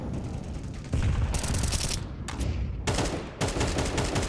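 Counter-Strike gunfire on the Ancient map during a pro match: rapid automatic rifle bursts crackle in several separate volleys with brief pauses, loud and close, with no talk over them.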